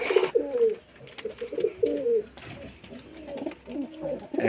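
Pigeons in a loft coo in short, low throaty phrases, several repeating close by at moderate loudness, with light shuffling between calls.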